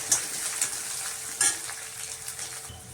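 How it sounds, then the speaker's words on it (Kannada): Sliced onions and curry leaves frying in a pan of hot oil, a steady close sizzle broken by a few sharper crackles and stirring scrapes, with no voices. "ಫ್ರೈ ಆದಮೇಲೆ ಕರಿಬೇವು ಸೊಪ್ಪು ಹಾಕೋತೀನಿ. ಆಮೇಲೆ 3 ಈರುಳ್ಳಿ ಉದ್ದುದ್ದ ಕಟ್ ಮಾಡಿ ಇಟ್ಕೊಂಡಿದ್ದೀನಿ, ಅದು ಹಾಕೋತೀನಿ."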